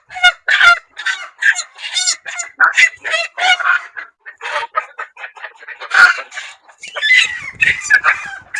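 Hens being caught squawk and cluck in loud, agitated bursts that come close and crowd together, with harsh repeated cries filling the whole stretch.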